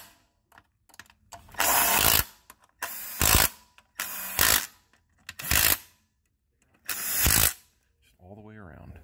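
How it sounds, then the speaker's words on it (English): A Milwaukee M12 impact driver snugs transmission pan bolts on a Ford 6R80 six-speed, firing five loud hammering bursts of one to two seconds each with short pauses between, followed by a faint whirring tail. "Now I have a Milwaukee M12 impact driver I'm going to use here. Just go around and snug them all up."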